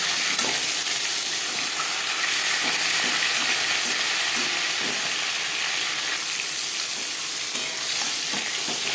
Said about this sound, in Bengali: একটা সাইজ ভাজা হয়ে গেলে অপর সাইজটা উল্টে দেবো